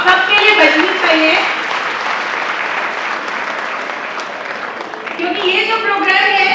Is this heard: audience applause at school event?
yes